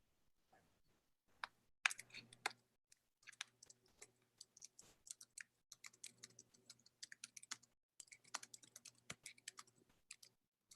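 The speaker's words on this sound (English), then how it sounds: "I hear someone typing." Keys clatter on a computer keyboard in quick, uneven bursts separated by short pauses, with a soft low hum underneath and no talking.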